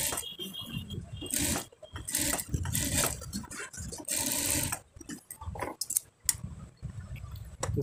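A sewing machine lock-stitches a four-year-old child's kabli panjabi in uneven bursts of whirring, rattling stitching, with short pauses and soft handling noises between runs.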